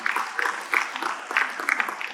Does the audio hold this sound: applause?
yes